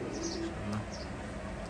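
A pair of golden pigeons cooing softly at close range, low murmuring coos in a short burst with a faint chirp above, set against steady background hum.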